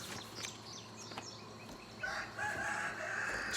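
A rooster crows out in a morning yard, its calls coming in rising bursts partway through and stretching out toward the end, mid-distance against steady outdoor background noise.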